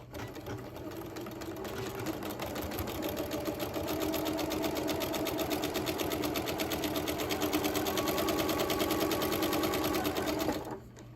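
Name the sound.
sewing machine stitching quilt fabric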